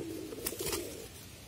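Soft, low cooing from pigeons, a brief faint murmur with a light rustle in the middle, quiet and close.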